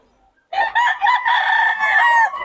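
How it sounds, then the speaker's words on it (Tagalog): A rooster crows loudly and close by in one long, drawn-out call lasting about two seconds, after a brief quiet start. "Ang ganda ng mga manok ni Boss Russell mga idol."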